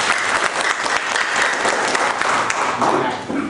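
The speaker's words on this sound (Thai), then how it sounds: "ปรบมือให้ กลุ่มแผนที่เดินดีด้วยนะครับ" An audience applauds a group presenting a walking map, the clapping dense, steady and sustained throughout before easing slightly at the end.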